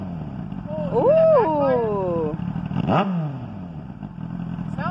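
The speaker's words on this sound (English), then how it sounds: "I'm barely even revving it." A carbureted 2002 Kawasaki ZX9 motorcycle engine idling loudly and blipped in short revs that rise and fall, with a deep throaty rumble close by and someone exclaiming briefly.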